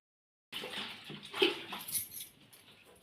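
Clothes being pushed into a tub of soapy water while doing laundry at home, making soft sloshing and splashing water sounds that start abruptly and continue close by, loudest near the middle.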